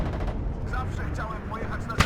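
A salvo of T-55 tanks firing in the war game WARNO over dense, continuous battle rumble, ending in a sharp, loud blast; a voice is faintly present underneath.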